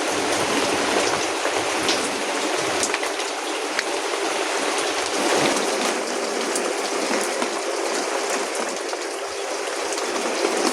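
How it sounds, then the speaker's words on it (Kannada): Heavy rain falls steadily with a bright, constant hiss and scattered drips nearby, uninterrupted and without speech. "ಮಳೆ ಇನ್ನೂ ಬಿಟ್ಟಿಲ್ಲ"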